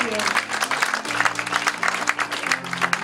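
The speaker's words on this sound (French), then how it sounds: "Applaudisseer voor de Heer." A church congregation applauding, with steady loud clapping throughout and a sustained musical tone underneath.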